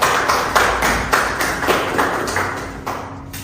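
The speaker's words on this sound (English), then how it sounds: "Let's give them all a round of applause" An audience claps for a panel of speakers at a mental health technology discussion: a thin, steady patter of hand claps with sharp repeated strikes, close and fairly loud, fading slightly toward the end.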